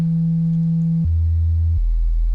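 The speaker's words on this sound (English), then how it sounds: "It's a sine wave." A pure, low sine-wave tone from the Serum synthesizer holds steady, then drops to lower pitches twice in clean steps, each note sustained without any other sound.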